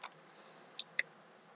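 Two sharp, quiet mouse clicks about a fifth of a second apart, crisp and close against faint background hiss.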